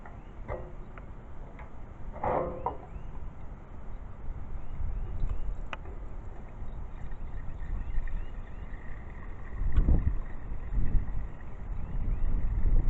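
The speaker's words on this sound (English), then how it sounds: "It's a little windy out here" Gusty wind buffets the microphone with low rumbling bursts, joined by a few faint ticks and clicks, and no one speaks.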